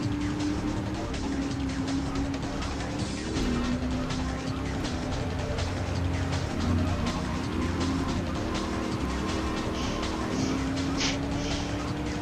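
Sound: car drifting, tires squealing, in GTA 3 video game

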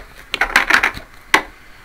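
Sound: shuffling tarot cards

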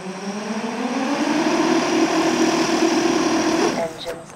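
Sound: motors of a heavy Shendrones Thicc drone armed, oscillating

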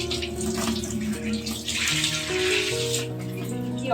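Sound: water gushing out of a pipe

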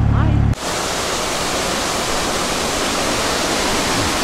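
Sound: water pouring over canal lock gates

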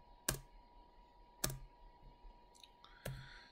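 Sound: computer keyboard key press to undo in AutoCAD

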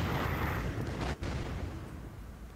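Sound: Cupid's Wrath weapon firing in video game In Death: Unchained

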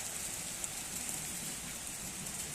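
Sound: hail falling

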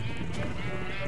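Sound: sheep bleating in the video game Minecraft

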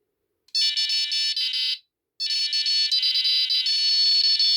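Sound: Prologic 4+1 carp fishing bite alarm beeping, most sensitive mode

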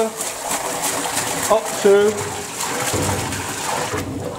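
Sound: water in a flood barrier test

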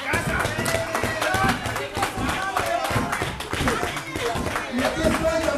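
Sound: applause for a wrestler at a wrestling arena

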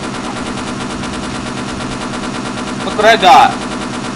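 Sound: mounted turret gun firing in video game Half-Life

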